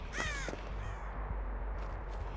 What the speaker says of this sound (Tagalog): Ang ibon.